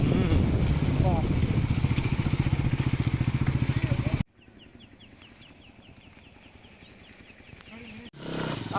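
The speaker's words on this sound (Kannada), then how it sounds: "ಗೈಸ್ ಗಾಡಿ ನೋಡಿ ಆಫ್ ರೋಡಿಂಗ್ ಮಾಡ್ತಿದ್ದೀವಿ ಫುಲ್ಲು" A motorcycle rides off-road on a forest trek trail near Chikmagalur, its engine loud and close with a steady throbbing pulse. It then drops abruptly to a fainter, rougher rumble, with a burst of noise returning at the end.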